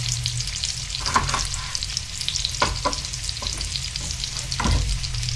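Carnitas pork sizzles steadily in a pan, a constant close frying hiss with occasional sharper pops and scrapes throughout, no voices.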